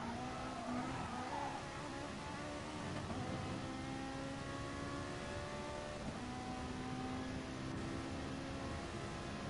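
Ferrari 458 Italia GT3 race car at Monza in GT Sport, its engine droning steadily at high revs throughout, with faint shifting tones from other cars around it.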